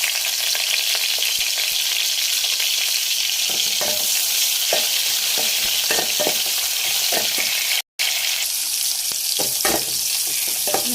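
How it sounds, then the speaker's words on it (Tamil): Cumin seeds and onions fry in hot oil with a loud, continuous sizzle and crackle, broken by scraping stir strokes, for a Tamil Nadu egg tamarind curry. "இப்போ எண்ணெய் காஞ்சதுக்கப்புறம் சீரகம் வந்து கொஞ்சம் போட்டுக்கோங்க. சீரகம் நல்லா பொரிஞ்சதுக்கப்புறம் வெங்காயம்,"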